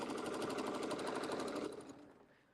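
A sewing machine runs steadily at speed, stitching in the ditch for ruler quilting, with a dense rapid needle rhythm that fills most of the moment before slowing and fading out near the end.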